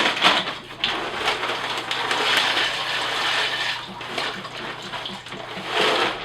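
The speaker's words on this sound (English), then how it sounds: "Go ahead and just throw some water in here and throw some beans on." Water is poured into a cooking pot on a wood-burning kitchen stove before beans are added: a continuous splashing, rushing pour that swells and eases over several seconds, close by, with no talking.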